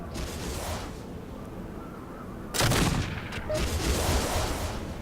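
Mech gunfire in the video game MechCommander 2, a steady rumble of battle that jumps into louder bursts of shots and blasts partway through, with no talk.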